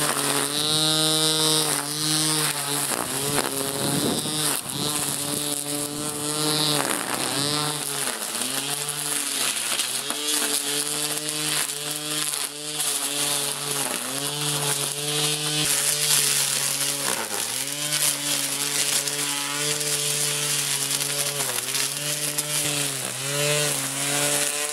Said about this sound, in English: So I'm gonna go and trim some grass with this trimmer